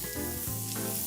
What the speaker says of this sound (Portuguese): O alho também, para a panela.